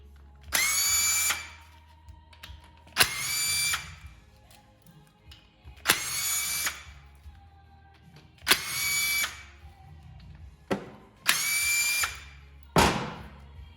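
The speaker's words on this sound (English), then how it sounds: "We're gonna go around and spin all the outer bolts out of the cam plate." A power tool spins bolts out of an engine cam plate on a 2002 Ultra. It sounds as five close, loud whirring bursts with short pauses between them and no talk.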